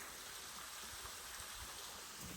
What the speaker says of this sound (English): beautiful waterfall down there